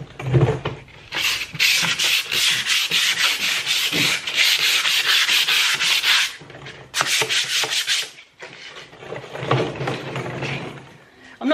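Close sander rubbing across painted wooden furniture in long rasping bursts, pausing briefly around the sixth and eighth seconds before resuming, steady and loud throughout.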